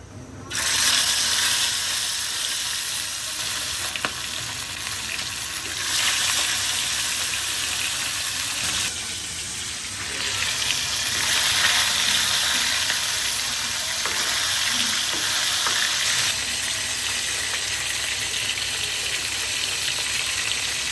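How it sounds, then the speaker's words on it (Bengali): Marinated fish fries in a hot pan with a loud, steady, close sizzle and crackle that runs the whole time, swelling and easing slightly as the pieces shift. "এরপরে মাছগুলো সুন্দর করে ভেজে নেব আর কি"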